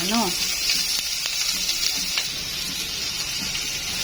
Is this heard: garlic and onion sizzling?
yes